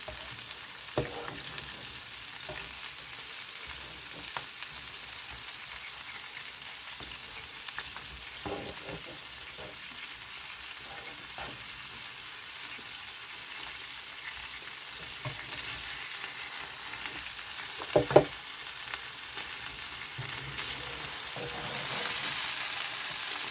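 Potatoes browning and crisping on a hot griddle beside breakfast patties give a steady, close sizzle that runs throughout, with occasional sharp pops and spatters and a brief louder crackle near the end.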